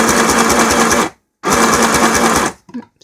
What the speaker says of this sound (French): c'est parti pour un point droit.